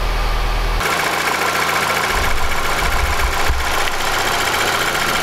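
A 2007 Toyota Avensis 2.0 petrol engine idles while warming up after a throttle-body cleaning. A loud, close, steady mechanical hum with faint ticking starts after a brief lower note, and the idle wavers slightly.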